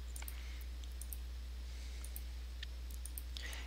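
Keys on a TI-Nspire calculator click lightly while tabbing between matrix entries, a few sparse taps over a steady low hum, with no talking.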